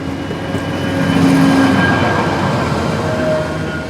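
An Istanbul metro train running underground, a steady loud rumble of wheels and hum of motors with faint high whines, heard continuously and close, with no voices.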